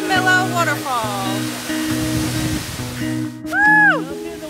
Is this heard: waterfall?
yes